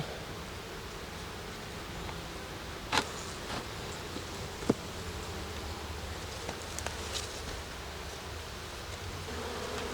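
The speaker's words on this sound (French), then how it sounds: "Donc les abeilles vont circuler là." Honey bees buzz around a beehive in a dense, steady hum, with a few sharp clicks and brief louder buzzes passing close.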